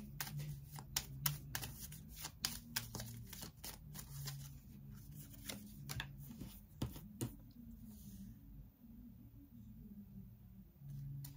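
Tarot cards being shuffled by hand, a steady run of soft papery riffles and taps close up, fairly quiet, with no talking over it.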